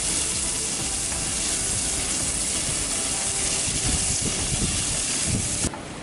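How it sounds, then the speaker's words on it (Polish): Bacon sizzles and crackles steadily in a hot pan, a dense, close hiss with faint popping throughout. "Ale elegancko skwierczy."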